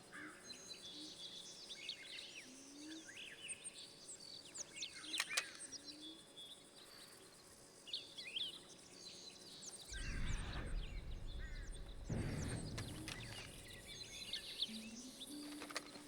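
Small songbirds chirp and tweet in short scattered calls over a soft insect and cricket bed in Red Dead Redemption 2, with a low rumbling swell partway through.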